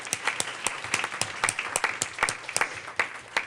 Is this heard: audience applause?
yes